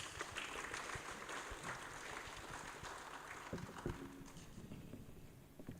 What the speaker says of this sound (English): can I invite you that we give them another round of applause?